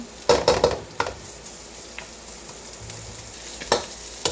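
Garlic and onion sauté in a pan, a soft continuous sizzle broken by a few sharp clinks and scrapes of a utensil stirring against the pan, close and with no talking.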